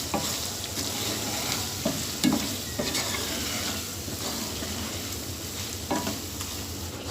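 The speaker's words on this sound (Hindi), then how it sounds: "तो इसको 1 मिनट तक भून लें" Spices with crushed red chili, ground red chili and salt roast in a pan for a masala malai chicken handi, giving a steady close sizzle broken by occasional scraping stirs, with no talking.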